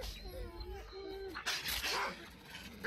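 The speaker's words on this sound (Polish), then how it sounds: "No chodź tu, psy." Dogs in S.T.A.L.K.E.R. whimper with thin, rising whines, then break into a few sharp barks and yips, close and under a voice.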